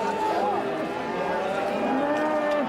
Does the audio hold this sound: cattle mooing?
yes